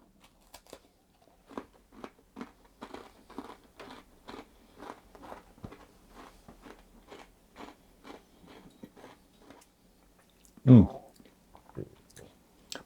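Crunchy oat biscuit made with golden syrup being bitten and chewed close up, with a steady run of small crisp crunches, one louder bite near the end and soft breathy sounds in between.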